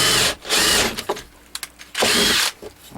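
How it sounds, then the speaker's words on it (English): A power drill bores into a piece of wood in two loud bursts, each about half a second long. A few short clicks and handling knocks fall in the quieter gap between them. "But you don't want to drill it too overly big."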